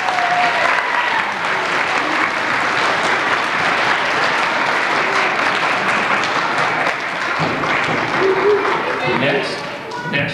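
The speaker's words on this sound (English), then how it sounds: "Let's give these folks a round of applause." A school assembly audience of students and staff claps steadily for several recognized students. The applause is loud and sustained for about ten seconds and sounds fairly close, with some voices mixed in.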